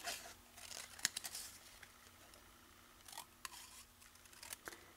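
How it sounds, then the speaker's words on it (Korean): Quiet snipping of scissors through paper, a few short cuts in bursts with soft rustling in between, close up. "이것을 가위로 잘라서 이렇게 자른 다음에 여기서 이렇게 V자로 오려 주시면 되겠습니다"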